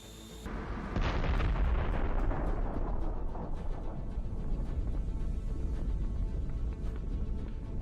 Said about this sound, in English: It's a precision strike, after which we see an incredible explosion.